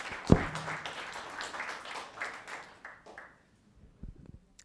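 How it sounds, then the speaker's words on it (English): Scattered applause from a small group at the Los Gatos town council meeting, a few seconds of clapping that thins out and stops, followed by quiet room noise. "Applause."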